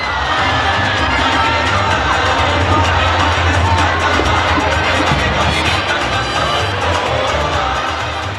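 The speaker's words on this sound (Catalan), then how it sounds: "Aplaudiment! Crits! Explosions de color!" A large carnival street crowd in Vila-real cheers and shouts continuously, with high whoops and children's voices over a dense, loud roar that barely lets up.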